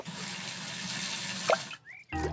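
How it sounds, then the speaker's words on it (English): Warm soapy water for washing a car in a children's cartoon, a steady splashing, running-water sound at moderate level, then a short squeak and a brief silence before another sound begins. "Daddy Pig has some warm, soapy water to wash the car."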